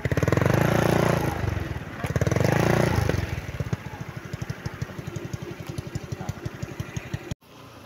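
Motorcycle engines running in a busy parking area at La Mesa Eco Park, Quezon City, loud and close at first with revving swells, then settling into a steady, rhythmic idling putter that continues to the end.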